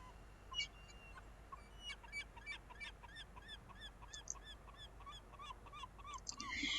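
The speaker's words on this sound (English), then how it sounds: "The herring gull is a fairly large, robust gull that may be found at the Salton Sea during migration and winter." Large herring gull calling at the Salton Sea shoreline in winter, a series of repeated honking, laughing cries at moderate distance over a steady outdoor background.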